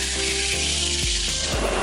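Steak frying in oil in a pan, giving a steady, close broadband sizzle with a few soft pops and clicks running through it.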